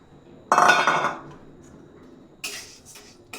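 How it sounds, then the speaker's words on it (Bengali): Black peppercorns dry-roast in a pan, with a loud burst of rattling and clinking as they tumble, a quieter lull, then more sharp rattles near the end. "গোলমরিচটাকে হালকা করে ভেজে নিব"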